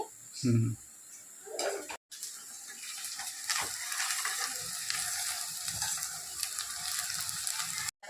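Ingredients for a Rayalaseema-style country chicken curry sizzle and fry in a pan, a steady crackling hiss that runs through most of the clip after a brief clatter at the start.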